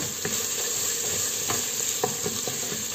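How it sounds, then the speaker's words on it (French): Tomato and pepper paste being stirred in a hot pan for a white bean stew, close scraping strokes from the spoon over a constant low sizzle, with no voices. "Concentré de tomate, je mélange bien."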